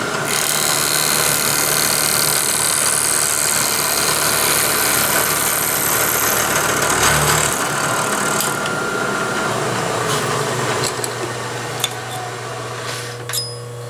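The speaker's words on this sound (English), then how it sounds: "Let's crank it right down to 50 thousandths, take finish cut, and see what it looks like." A milling machine takes a light finish cut down to about 50 thousandths on a thin part: a steady, continuous mechanical drone with a high whine that shifts partway through, then settles into a quieter hum with a few faint ticks.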